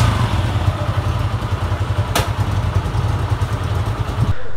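A Suzuki Gixxer motorcycle engine idles close by just after starting, a steady low chugging pulse with light mechanical clatter and a brief sharp click midway, ending abruptly.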